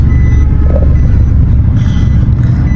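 A vehicle reverses to park at the side, its reversing alarm beeping in a steady repeating pattern over a loud low engine rumble.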